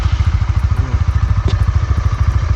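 A Honda Winner X motorcycle engine runs at idle nearby, a loud, even, rapid pulsing putter with a light mechanical clatter and one brief sharp tick partway through.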